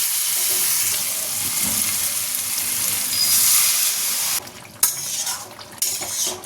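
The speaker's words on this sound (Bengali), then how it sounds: "এবার অল্প একটু জল দিয়ে দেবো।" Water poured into a pan of sizzling spice paste fried in oil for egg curry, a loud steady hiss that cuts off abruptly, then softer bubbling with a few clinks of utensil against the pan.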